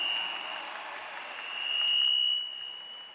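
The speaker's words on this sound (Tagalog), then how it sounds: "Bigyan natin ng malakas na palakpak si Commissioner." Audience applause for the PBA commissioner at a basketball event in Ilocos, a soft, distant patter of clapping with a steady tone running through it, swelling slightly midway before easing off.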